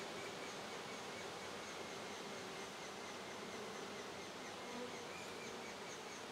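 Honeybees in a hive box during a nucleus colony inspection give off a steady, low, even hum, continuous and unbroken throughout, with no voices over it.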